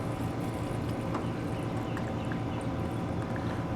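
Liquid fuel poured into a small camp stove from a cook set, a continuous close-up trickling and gurgling lasting a few seconds at an even level.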